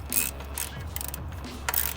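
A ratchet tightens the valve cover bolts on a VQ35DE engine, giving faint, quick clicking bursts over a low steady hum, with no talking.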